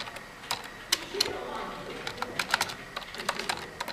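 Close, irregular clicks of keys tapped on a computer keyboard while text is entered into an LED sign program, with short pauses between bursts and no one speaking.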